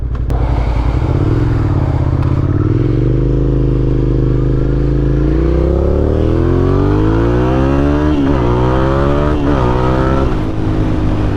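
A motorcycle engine revs loudly and continuously up close at the start of a first ride of the year, its pitch rising and falling through several throttle blips toward the end, with no talking.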